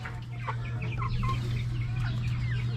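Rhode Island Red hens cluck and murmur in a series of short, close calls while pecking at cabbage, over a steady low electrical hum; no voices.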